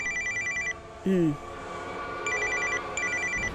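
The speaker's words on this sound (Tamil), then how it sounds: "மாமா பாத்தியாமா மணி அடிக்குது" A telephone bell rings in repeated bursts inside a home, with a brief tonal sweep and voices talking in between rings.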